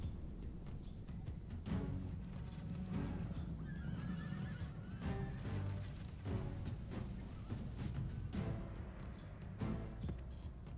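Horses neigh and whinny repeatedly in Rome Total War while rain falls on a battlefield with horse archers, cries rising over a steady low rumble, with hooves clip-clopping throughout and no voices.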